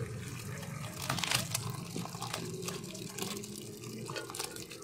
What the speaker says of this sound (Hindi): अब मैं इसका पानी जो है वो निकाल लूंगी।